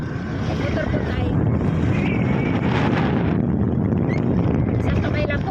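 A motorcycle rides along a road at dusk, its steady engine drone mixed with heavy wind rush on the microphone, loud and continuous, with faint voices underneath.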